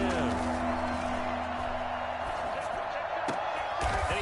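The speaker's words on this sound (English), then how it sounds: "Crowd getting in it a bit already" Football stadium crowd at a Ravens vs Browns game, a broad, steady roar of many voices swelling throughout, with a few brief thumps poking through the wash.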